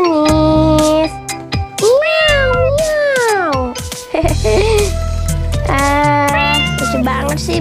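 Cartoon cat in the Toca Life World game meowing repeatedly, several drawn-out, pitch-bending meows in a row, loud and close, with a bit of clinking between them.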